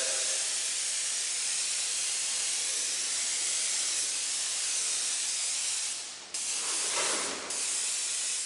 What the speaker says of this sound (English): So this time, I'm going to spray more of the red so I can actually get some of the black with color.